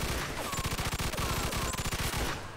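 Rapid bursts of automatic gunfire from the video game Mafia II, a dense rattling fusillade of closely spaced shots that runs nearly continuously and loud for a couple of seconds.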